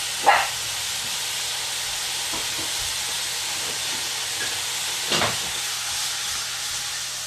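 Fresh oyster mushrooms hit a hot pan with thyme, giving a steady, close sizzling hiss with two brief sharp crackles, one at the start and one near the end. No one speaks.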